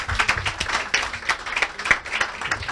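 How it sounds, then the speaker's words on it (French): An indoor audience at an entrepreneurs' event claps briefly, a dense patter of many hands fairly close, with no talking over it. "On peut les applaudir."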